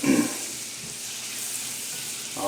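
Butter melts over medium heat in a hot pan for a roux, giving a soft, steady sizzle and crackle, with a brief louder burst at the start and again at the end.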